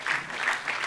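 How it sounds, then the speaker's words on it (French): A brief burst of audience clapping at a round-table discussion on audiovisual policy in Oceania, welcoming a panel speaker; a short, fairly steady patter with no talk over it. "Donc on peut peut-être l'applaudir."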